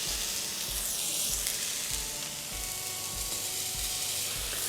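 Frozen burger patties frying in a hot pan give a loud, continuous, close sizzle with a dense hiss. Faint low thumps recur at a regular pace underneath, and nobody speaks.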